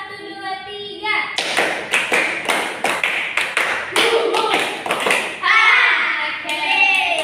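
A small group of schoolchildren claps in a counted pattern, rising from single claps to bursts of several quick, close hand claps, with kids' voices chattering around them.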